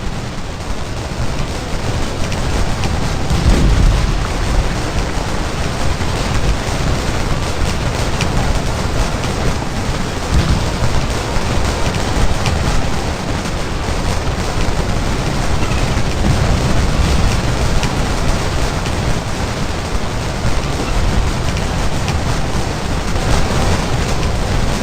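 Massed Civil War brigade rifle fire in a Gettysburg battle game rolls on as a loud, dense, continuous roar of overlapping shots and booms for the whole stretch.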